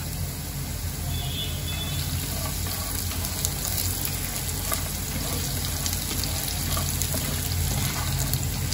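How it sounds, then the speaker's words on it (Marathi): Peanuts being stir-fried in hot oil while poha is prepared, giving a steady, continuous sizzle and crackle that stays close and even throughout with no talking. "शेंगदाण्यांना पण तेलामध्ये चांगलं मी परतून घेतेय"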